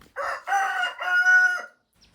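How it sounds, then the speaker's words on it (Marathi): Chickens and a rooster kept in a coop at a rural farm home, crowing and clucking loudly and close by in a couple of overlapping calls, with no talking. "आमच्या आजीने इथं काही थोड्याशा कोंबड्या पाळलेल्या आहेत बघू शकता कोंबड्या पण खूप उंच उंच आहेत"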